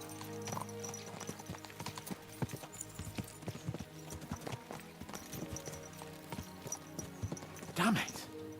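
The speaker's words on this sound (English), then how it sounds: "Let's really spur these horses on, eh?" Horses clip-clop at a steady brisk pace in Kingdom Come Deliverance 2, hooves thudding under a continuous voice and background music, with a short whinny near the end.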